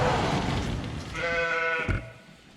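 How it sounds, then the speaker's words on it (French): Ewes bleat in a sheepfold during lambing, one loud close wavering bleat rising over a rustling barn background, then fading. "toutes les brebis qui agnellent sont ici"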